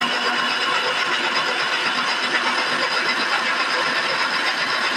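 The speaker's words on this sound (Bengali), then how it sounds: "সেই জন্য সম্পূর্ণ ঠান্ডা করেই আমরা কিন্তু ব্লেন্ড করে নেব।" An electric blender runs steadily at high speed, whirring cooked tomatoes into a smooth paste, a loud, even motor roar close by with no pauses and no talking.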